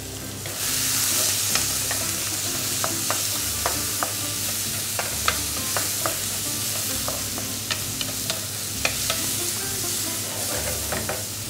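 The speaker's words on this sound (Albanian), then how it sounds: "Hedhim dhe mishin e leprit. E trazojmë e një lukë druri." Hare meat sizzles steadily in a frying pan while a wooden spoon stirs it, with scattered sharp spoon scrapes and pops over a constant close, loud fry, no voices.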